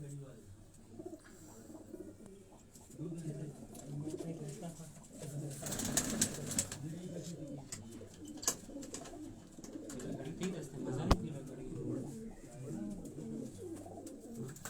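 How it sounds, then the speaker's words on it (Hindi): Soft, low cooing from several breeder pigeons of a high-flying breed, overlapping and continuous, with someone talking nearby and a brief flutter midway. "ब्रीडर कबूतर हैं इनके ये सारे"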